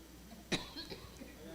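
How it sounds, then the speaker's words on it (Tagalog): A single short cough, quiet and fairly close, rises briefly above a low room hum, followed by faint throat sounds. "Inuubo."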